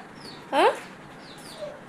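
A single short, high chirp from a chick stands out clearly, with fainter peeps around it against a quiet background.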